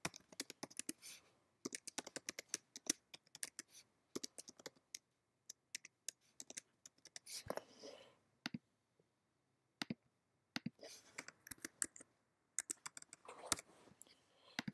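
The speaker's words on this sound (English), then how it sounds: "you enter your email address, which I'm doing right now" Rapid bursts of computer keyboard typing as an email address is entered on a sign-up page, close and fairly quiet, with irregular clusters of key clicks separated by short pauses.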